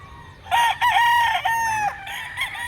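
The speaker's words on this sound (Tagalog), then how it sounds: "Ito yung manok na para sa'yo." A rooster crows once, loud and close, a long rising-then-falling call lasting about a second and a half, with quiet farmyard background and no talk.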